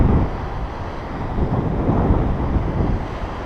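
Big waves crash against the rugged North Sea coastline of Deerness on the Orkney mainland, a steady, broad roar of surf mixed with heavy wind buffeting the microphone throughout, with no voices.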